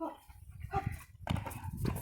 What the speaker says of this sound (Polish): Dobry Kajrosik, super, brawo chłopie. Super, dobry pies.